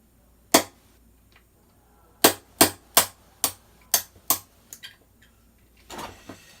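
A hammer drives a punch against a pin in the trigger group of a gas blowback M16A4 airsoft rifle: one sharp tap, a pause, then a quick run of about seven crisp close strikes, followed by a few softer knocks.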